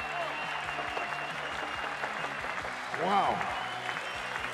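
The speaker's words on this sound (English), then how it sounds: "how about a round of applause for all the skaters out there?" Crowd applause and cheering for skaters at a bowl skateboarding contest, a steady clapping wash under loud announcer talk over a PA, with a brief exclaimed voice.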